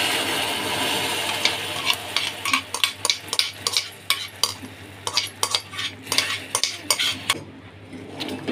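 A spoon stirs sugar syrup into a khoa ice cream mixture in a pot, a steady series of close scraping, clinking strokes in irregular rhythm with no voices.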